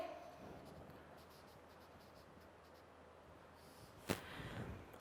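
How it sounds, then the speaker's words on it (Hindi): A pen scratches faintly and steadily as data is written down for a Class 9 physics numerical problem, with soft breathing and a sharp click or tap near the end. "गिवन डाटा लिखेंगे"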